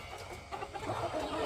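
Chickens cluck and murmur at close range in a farm setting at morning watering time, soft overlapping calls that grow a little busier toward the end.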